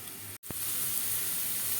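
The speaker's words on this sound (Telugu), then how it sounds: "ఉల్లిపాయలు పచ్చిమిరకాయలు వేగినాయి కదండి" Onions and green chillies fry in oil in a pressure cooker pan for country chicken curry, giving a steady, close sizzling hiss that drops out for an instant and then resumes evenly.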